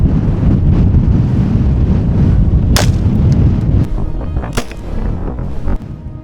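A single loud 5.56 rifle shot from an LMT MARS-L hits a concrete block outdoors, a sharp crack over gusty wind rumble that fades into a quieter tail.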